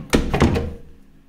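An apartment door swung shut, a sharp thunk followed by a second knock as it settles, then a quick fade to quiet, fairly close and alone.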